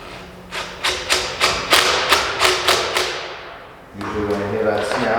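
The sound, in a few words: impact wrench tightening a fitting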